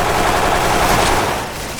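Rapid, sustained automatic gunfire from a MAD TAR-21 assault rifle in a video game blasts continuously at close range, loud and dense, easing slightly at the end.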